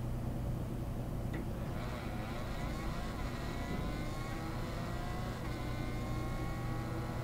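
Steady engine drone from a car fitted with the Throttle bundle in Rocket League, a continuous game-engine hum held at an even level throughout with no voices.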